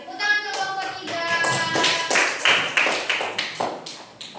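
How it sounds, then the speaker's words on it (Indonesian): A classroom of students claps for a student group, a brisk run of close hand claps and taps with some chatter and shuffling mixed in. "tepuk tangan untuk kelompok 3"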